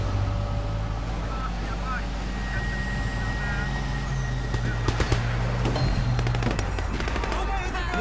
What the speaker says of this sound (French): ça va être une bonne fusillade comme on les aime